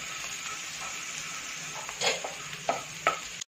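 Garlic and ginger fry in hot oil in a pan, a steady close sizzle broken by a few louder scraping stirs near the end, with no talk.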